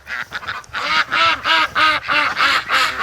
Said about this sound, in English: Oh yeah, there's the duck.